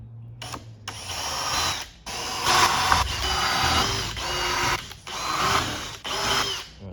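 A power drill with an 8mm bit whirs in several bursts, starting and stopping with short pauses between, loud and close, with a grinding pitch as it bores holes in a fiberglass car dashboard.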